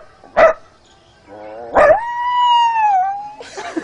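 A voice imitates a dog, giving two short sharp bark-like yelps followed by a long, steady, whining howl that trails off, close and clear.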